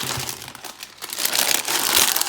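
A plastic bag crinkles and rustles as it is pulled away from a parcel of BAM collectible figures, a steady close crackling that keeps going for a couple of seconds with no voices.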